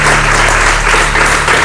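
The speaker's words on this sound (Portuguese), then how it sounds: "Um aplauso para as 3" Studio audience applauding on a Portuguese afternoon TV talk show as a guest, Rita Ribeiro, is welcomed; dense, steady clapping fills the whole moment at close, loud level, with no voices over it.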